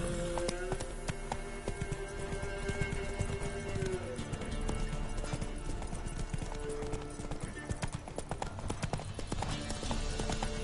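A horse gallops in a video game, its quick rhythmic clip-clop hoofbeats pounding steadily over dense game background sound for the whole stretch.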